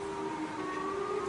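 A siren wails steadily with a sustained, slightly wavering tone over a noisy background, continuous and fairly loud with no voices.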